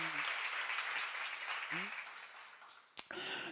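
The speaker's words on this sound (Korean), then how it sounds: "박수를 하세요." A church seminar audience claps during a sermon, a broad wash of applause running under the space with brief speech fragments and a sharp knock near the end.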